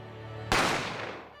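A single sharp gunshot effect from an audio drama bursts out loud and close, then decays over a second with a lingering tail.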